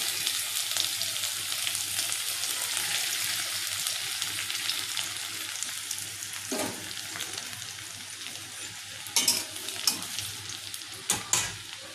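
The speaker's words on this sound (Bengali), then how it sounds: "তারপরে আমি এখানে আদা আর রসুন কুচিটা তুলে দেব" Chopped ginger and garlic fry in a pan of oil with turmeric, giving a continuous close sizzle that ends with several sharp spatters and stirring clinks.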